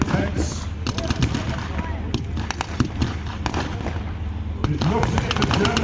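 Bursts of heavy machine-gun fire from an MG32 mounted on a half-track at a WWII reenactment, Tiger Day at Bovington, sharp repeated cracks scattered over a steady rumble of engines and crowd noise, with a commentator talking throughout.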